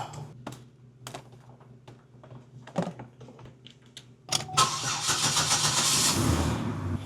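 A Buick engine, just repaired after a misfire, cranks and catches after several seconds of quiet clicking and shuffling, then settles into a loud, steady idle close by.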